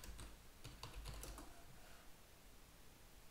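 Someone types a search on a computer keyboard: a quick burst of close, faint key clicks in the first second and a half, then a quiet room tone with scattered light taps.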